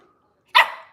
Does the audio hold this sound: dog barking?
yes